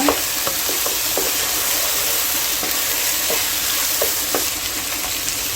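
Chopped tomatoes fry in a pan for squid gravy, a continuous loud sizzle broken by repeated light taps and scrapes of a stirring spoon.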